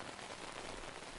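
Steady, soft rain falls outdoors as an even, unbroken hiss that stays faint and constant throughout.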